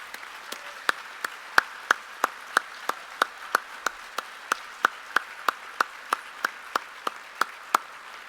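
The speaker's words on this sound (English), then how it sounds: "take a round of applause for all you do for small business" Slow, steady claps at an awards gala for small business, coming at an even pace of roughly three per second. They sound sharp and isolated against a quiet room, with no crowd roar or talk.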